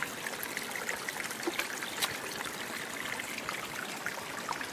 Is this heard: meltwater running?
yes